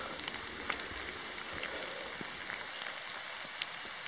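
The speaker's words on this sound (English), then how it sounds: "All you can hear is the rain on your poncho." Rain falling on a poncho out in wet bushland, a steady soft patter of drops with occasional sharper nearby taps, quiet and close with no voices.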